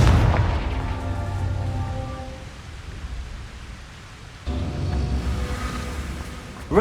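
A Confringo spell explosion in Hogwarts Legacy bursts with a loud boom at the start, fades into a noisy rumbling decay, then a second burst hits near the end.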